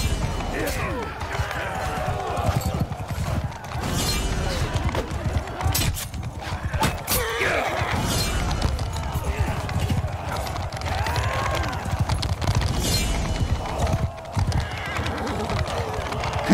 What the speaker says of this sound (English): Look at those horses jump.